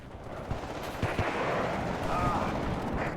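Mortar barrage in the real-time strategy game WARNO, dull thumping impacts and gunfire merging into a loud, sustained battlefield rumble with a few sharper reports.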